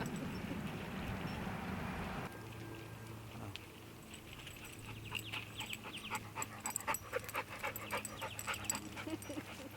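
Several happy hounds pant and patter around a vineyard during winter pruning, close and rhythmic, with outdoor background noise and a vehicle passing faintly at the start.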